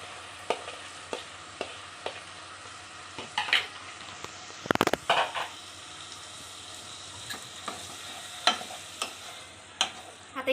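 Prawns sautéing in masala in a pan, a low steady sizzle broken by irregular clicks and scrapes of a spoon stirring against the metal, with one louder clatter midway.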